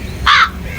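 A crow caws twice, loud and close, with two short harsh calls separated by a brief pause.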